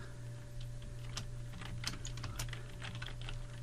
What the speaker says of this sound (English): I'm going to put my cursor right between the opening and closing TD tags,